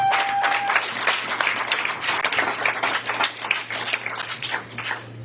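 Congregation applauding during a Sunday church service, dense continuous clapping held steadily at one level for the whole stretch, fairly close and full, with a low steady hum underneath.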